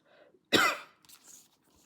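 A single sharp cough bursts out close to the microphone, followed by faint throat noises and soft breathing in a quiet room.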